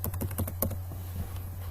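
Quick clicking of computer keyboard keys as a name is typed into an online shop address form, a short burst of several keystrokes over steady low hum.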